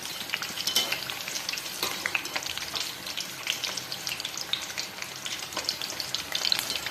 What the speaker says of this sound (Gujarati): તો જોઈ રહ્યા છો અહીંયા આપણા મરચાં તળાઈને રેડી થઈ ગયા છે.